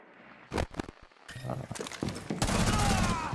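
Gunfire in a first-person shooter video game, with a few sharp isolated shots followed by a dense rattling burst of rapid fire, close and loud, mixed with footsteps and game clatter.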